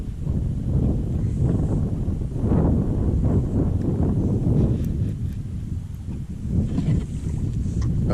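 Strong wind on a lake during kayak bass fishing, a steady loud roar and buffeting across the microphone that continues throughout, with no speech.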